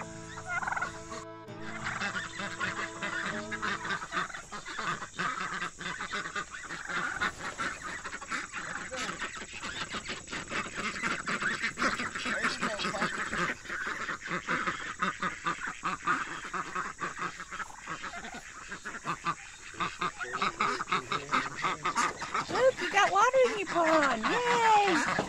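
Ducks and geese quack, honk and gobble continuously at close range, overlapping each other in a busy farmyard chorus, with people talking at times.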